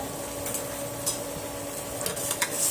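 Potatoes and vegetable stalks stir-fry in oily spice masala, a dense continuous sizzle with a few brief spatula scrapes, close and heard alone.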